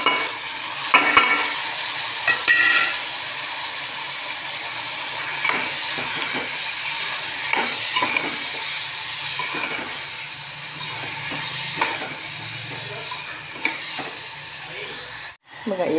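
Chopped tomatoes tipped into softening onions in a hot pan for amthi, a steady close sizzle and hiss with scraping stirring strokes throughout, a voice speaking briefly early on.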